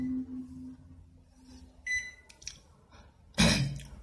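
An IFB 25BC4 microwave oven gives a pair of short electronic beeps after the express cook start button is pressed, followed by a louder clunk of the machine starting, close by with no talking.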